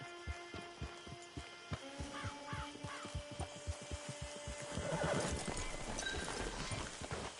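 Horse hooves clip-clop at a steady walking rhythm on hard ground, fairly faint and regular, with a brief whinny and rising rustling noise toward the end.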